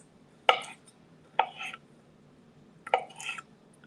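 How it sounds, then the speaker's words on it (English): Knife chopping cooked potatoes on a cutting board in a home kitchen, three quiet, separate bursts of cuts spaced about a second apart, close and soft against a low background hum. "we are just about done chopping our potatoes"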